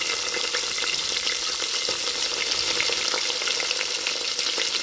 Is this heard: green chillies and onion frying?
yes